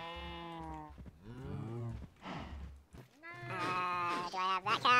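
Minecraft cows give several drawn-out moos, a voiced low call that rises in pitch, some overlapping, fairly close and clear with short gaps between calls.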